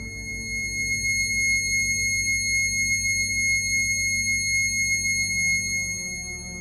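A steady, pure high C-sharp synthesized tone, 2160 Hz, sustained throughout, with a faint low pulsing hum underneath.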